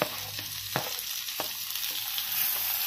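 Chopped tomato hits a pan with garlic-ginger paste and sizzles in a bright, hissing fry, punctuated by a few sharp stirring scrapes and taps against the pan.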